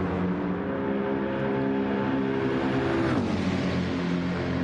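Several BMW race cars battle side by side down a Nürburgring straight during the 24-hour race, their engines droning loudly and steadily close by, with one car's pitch sweeping downward as it passes.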